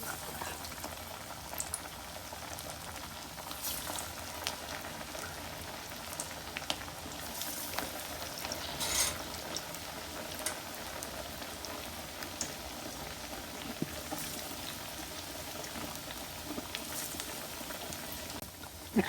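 Onion fritters (peyaju) frying in hot oil, a steady dense bubbling and crackling sizzle that holds evenly throughout without any talk.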